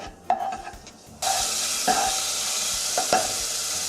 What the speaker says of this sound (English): So we'll go ahead and saute our garlic for about 30 seconds.